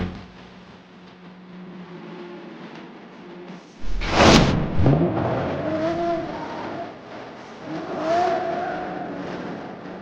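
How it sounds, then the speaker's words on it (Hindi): A car driven off suddenly by a woman, with a sharp surge and tire squeal as the engine revs, then rising and falling engine tones as it pulls away over low background noise. "ये मैडम ऐसे गाड़ी क्यों चला रही है?"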